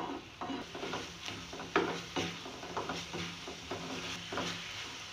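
Minced meat (keema) is stirred and fried in a pan, with a spoon scraping in irregular strokes over a soft, steady sizzle, close and fairly quiet.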